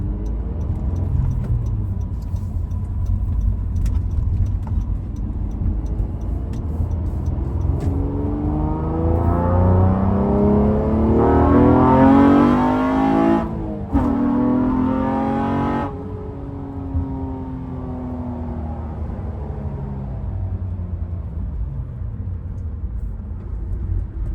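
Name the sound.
cammed 9th gen Honda Accord engine accelerating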